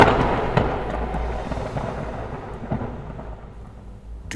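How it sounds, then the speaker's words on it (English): A thunderstorm effect in a fantasy battle motion comic: a continuous deep rumbling roar of thunder and rain-like wash, with scattered cracks, loud and sustained without speech. "And in that moment, the storm answered his call."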